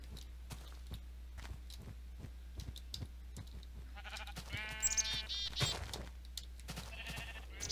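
Sheep bleat in the Minecraft Tekkit game: a few short, wavering bleats around the middle, with soft repeated footstep-like taps throughout and no talking.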